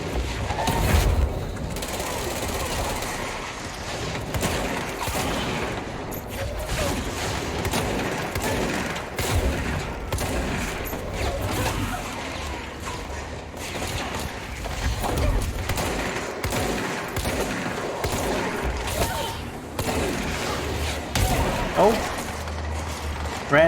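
Missiles and gunfire in the video game Control, a dense barrage of shots, thuds and mechanical clatter that runs steadily throughout.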